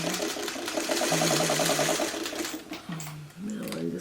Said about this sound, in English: Okay, so we're going to sew this one.